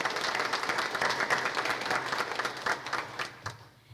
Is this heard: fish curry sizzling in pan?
no